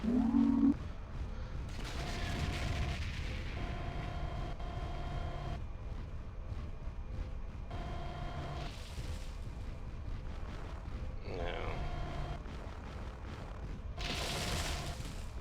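Missile launches and explosions in the video game Mechwarrior 4 Vengeance, with repeated rumbling booms and bursts over a low, continuous battle rumble and no talk.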